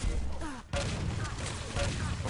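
A shotgun fight in Quake Live team deathmatch, with a rapid barrage of blasts and impacts packed into a couple of seconds, loud and dense, with commentators' voices mixed in.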